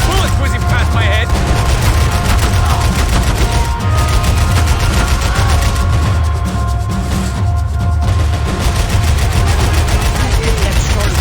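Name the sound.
gunfire, bullets whizzing past, Max Payne 3 video game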